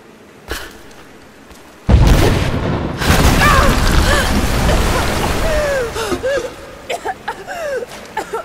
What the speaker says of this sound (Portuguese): Eles estão explodindo uma entrada.